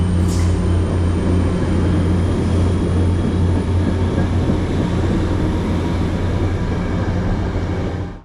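CT Rail train 6698 pulls away from Merritt 7 station toward Danbury, a steady loud rumble with low engine drone and rail noise holding throughout, then cutting off at the end.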